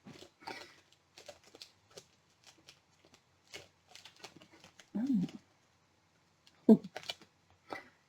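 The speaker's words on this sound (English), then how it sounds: "that moment where I'm trying not to destroy the packaging and it just does not want to cooperate with me" Crinkly plastic cake packaging being opened, a Hitoikicafe strawberry stick cake wrapper, with scattered crackles and rustles close by and a voice briefly audible.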